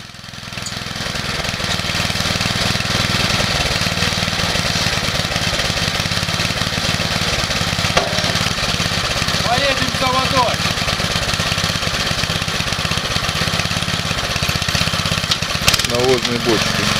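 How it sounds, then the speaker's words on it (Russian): A crude homemade tractor built from a walk-behind tractor engine, a Zhiguli gearbox, axle and wheels, and a profiled-steel frame runs steadily throughout, a continuous mid-pitched engine drone with faint clatter and some background voices. "Простейший самодельный трактор где-то в российской глубинке, из двигателя, от мотоблока, коробки, моста и колес, от Жигулей"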